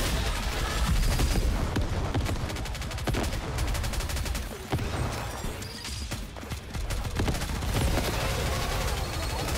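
Gunfire fills a boss fight in the NIKKE video game, with rapid crackling bursts and sharp shots running almost continuously throughout. A voice is faintly mixed under the shooting.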